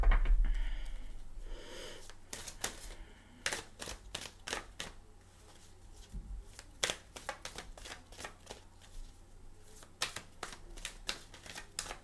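Oracle cards shuffled by hand close up, giving a run of soft, irregular flicking and slapping taps over a low steady hum, fairly quiet, with no talking.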